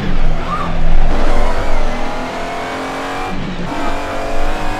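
An Alfa Romeo 155 V6 Ti, driven with 4WD physics in Assetto Corsa Rally, gives a loud, steady engine drone as it accelerates through corners. The tone swells and dips over a few seconds, with brief tire noise.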